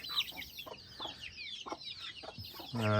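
Chickens cluck in a farm brooding pen, a run of short, close clucks and chirps in loose rhythm, ending with a louder burst of calls.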